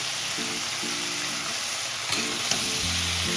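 Shelled green peas tipped into vegetables frying in a pan for dalia khichuri: a steady close sizzle fills the clip, broken by a couple of small clacks and soft stirring scrapes, with no speech.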